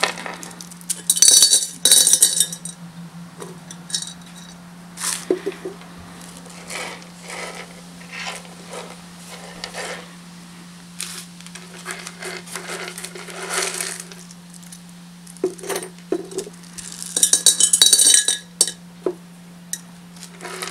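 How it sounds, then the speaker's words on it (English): Small rocks clatter and clink into the bottom of a glass desk terrarium, bursts of bright pebble-on-glass rattling that come and go over a steady low hum. "add your rocks to the bottom."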